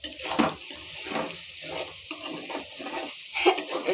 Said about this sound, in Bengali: এরকম করে নাড়াইতে হয়, যে এইটা দিয়ে নাড়াইতে হয় আস্তে আস্তে